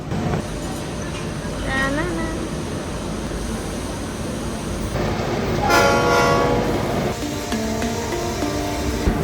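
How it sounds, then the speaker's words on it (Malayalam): A Nilgiri Mountain Railway steam train near Ooty rumbles and clanks as it begins moving, with a horn or whistle sounding in bursts over the mechanical noise. "ട്രെയിൻ അങ്ങനെ പതുക്കെ മൂവായി തുടങ്ങി"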